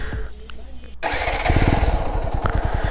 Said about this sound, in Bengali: এই যে হচ্ছে বাইকটা আমি স্টার্ট দিছি। তো বাইক স্টার্ট দেওয়ার এই দিকে হচ্ছে একটা নয়েজ আছে।